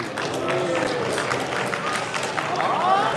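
Audience clapping at a Hot Wheels Nationals 2024 sneak-peek presentation, a dense, continuous patter of many hands from a crowd, with voices murmuring over it throughout.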